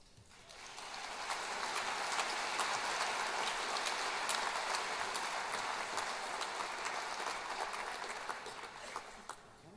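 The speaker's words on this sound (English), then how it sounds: "please hold your applause till all of our graduates have been introduced" A crowd at an engineering senior recognition night graduation ceremony breaks into dense, rain-like applause that builds quickly, holds steady and loud, then tapers off near the end.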